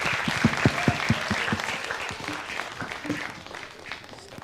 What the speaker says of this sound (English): A round of applause for Janus Education's Managing Director,